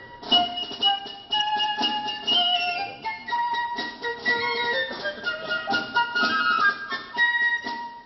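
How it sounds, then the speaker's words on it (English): Prokofiev's Lieutenant Kije suite, with a solo piccolo tracing a Lydian scale: clear, high, legato notes stepping through a melodic line over a quiet orchestral backing, continuous and alone without speech. "the birth of Kije is represented by a solo piccolo playing a scale in the Lydian mode"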